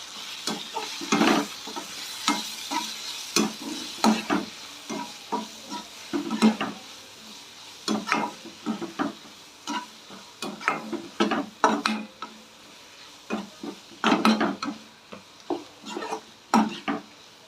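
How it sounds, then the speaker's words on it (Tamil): Chopped tomatoes sautéing in a pan for South Indian tomato rice, with repeated scraping stirs of a spoon over a steady close sizzle, heard on their own without talk. "தக்காளி கொஞ்சம் நல்லா வதங்கட்டும்."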